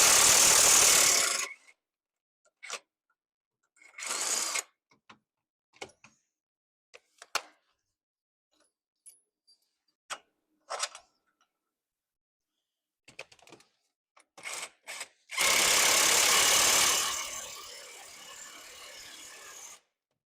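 A ratchet loosening a harmonic balancer pulley bolt on a car engine, with sharp bursts of rapid clicking at the start and end and scattered short clicks and clunks between, close up and without talk.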